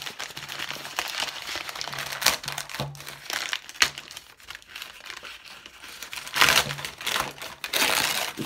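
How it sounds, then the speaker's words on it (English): Paper from a mailed package is crumpled and torn open, a steady run of crinkling and ripping with louder bursts of tearing toward the end, close by and without talk. "It's paper so I can rip it."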